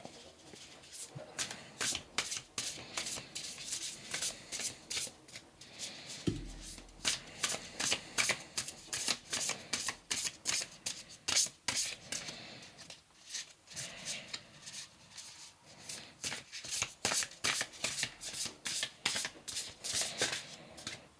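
Tarot deck being shuffled by hand, a steady run of crisp riffling card snaps and slides close up, repeated in bursts with no voices.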